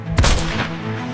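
A single loud gunshot from a hunter's gun in a jungle, a sharp blast followed by a short rumbling decay with no other sounds.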